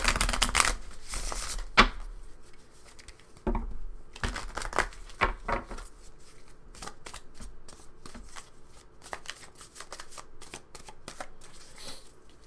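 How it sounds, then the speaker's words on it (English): Tarot cards being shuffled by hand, a series of loud riffling bursts followed by steady, softer rustling and tapping of the deck, close and alone without talk. "So I just need to warm up the cards a little bit."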